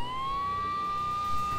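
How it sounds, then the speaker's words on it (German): Police sirens wail steadily in the Max Payne video game, a single sustained rising tone held across the whole moment at moderate distance, alone without talk. "Die Sirenen heulten in der atonalen Harmonie eines Chors manisch-depressiver"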